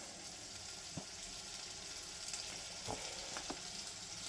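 Burger meat browning in a pan gives a steady, quiet sizzle with a few brief pops and clicks, no voices.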